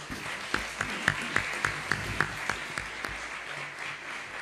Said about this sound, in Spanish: Démosle un aplauso otra vez al doctor Luis Pineda.